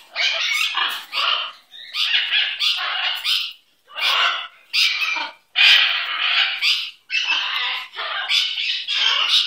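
A pet bird squawks loudly and repeatedly in harsh bursts with short gaps, close by, with no talking.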